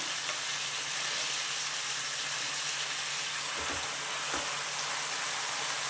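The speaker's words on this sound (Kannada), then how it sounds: "ಈಗ ಇದಕ್ಕೆ ನಾವು ಎಲ್ಲ ನೀಟಾಗಿ ತೊಳೆದಿಟ್ಕೊಂಡಿರೋವಂಥ ಪಾಲಕ್ ಸೊಪ್ಪನ್ನ ಆ್ಯಡ್ ಮಾಡ್ಕೊಳ್ಳೋಣ" Spinach is added to masala frying in oil for palak paneer, giving a steady, even sizzle throughout with a couple of soft low bumps from stirring.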